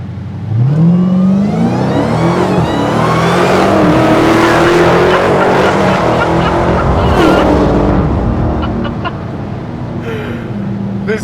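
Dodge Demon drag car launching from the staging line with a transbrake, a loud engine roar rising sharply in pitch as it accelerates away, then trailing off near the end.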